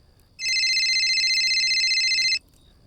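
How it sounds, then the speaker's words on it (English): A phone ringtone sounds loud and close, a steady electronic ringing tone that starts abruptly, holds for about two seconds, then cuts off against near silence. "my phone rang."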